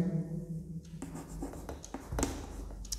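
Pen or marker writing on a board during a physics lesson on optics, quiet scratchy strokes in short bursts with a faint tap, close by and fairly soft.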